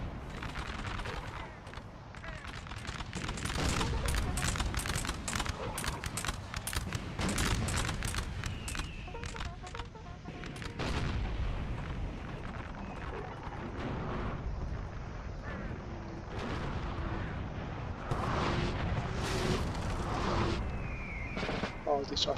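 Artillery cannon fire and musket volleys fill a Napoleon: Total War 3 online battle, with repeated booming blasts and crackling gunfire throughout, loud and dense, and talk mixed in.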